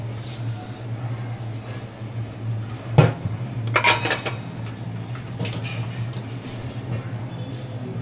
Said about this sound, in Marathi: भांडी घासणार आपण.